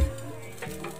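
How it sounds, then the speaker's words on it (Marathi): Dried coconut roasts in a pan for garlic chutney, giving a brief, light sizzle with a soft scrape of stirring close by. "खोबरा मस्त भाजून झालेला आहे"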